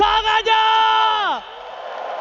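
A packed esports arena crowd at a lower-bracket final playoff game lets out a loud, sustained roaring cheer and whoop that swells and then fades slightly, with no clear speech over it.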